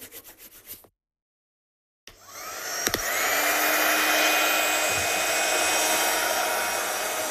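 A heat gun blows hot air for heat setting, switching on after a short silence and settling into a loud, steady rushing roar with a faint whine, heard alone after a few brief taps at the start.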